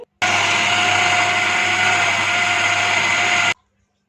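An electric chopper whirs steadily for about three seconds, blending chicken seekh kabab mixture with garam masala, then cuts off abruptly into silence.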